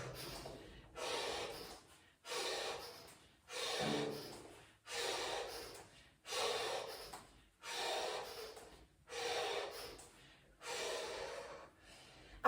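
Rapid, forceful breath-of-fire yoga breathing, close and alone, in about ten regular bursts of sharp nasal exhalations separated by brief pauses.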